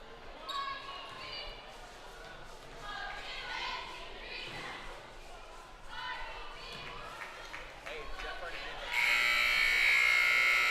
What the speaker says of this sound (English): And the buzzer wraps this one up for us.